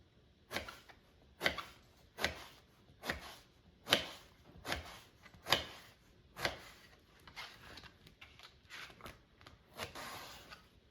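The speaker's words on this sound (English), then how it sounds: "So I cut it in half. And I slice it lengthwise and then cube it." A knife cuts through eggplant on a cutting board in a kitchen, halving, slicing lengthwise and cubing it, giving a series of crisp, close chops in an uneven rhythm with quieter taps between.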